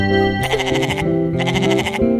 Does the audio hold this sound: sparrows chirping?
no